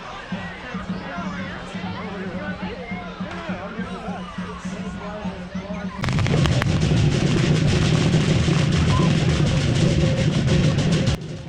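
Crowd chatter and murmuring at Bendigo's Easter dragon procession give way halfway through to a loud, rapid crackle of firecrackers bursting in dense strings over the noise.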